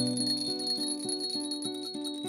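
Small clay bells from the Totonac and Nahua tradition ring in a quick repeating pattern, about eight bright metallic strikes in just over two seconds, each one ringing on with steady overtones.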